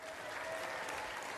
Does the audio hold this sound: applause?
yes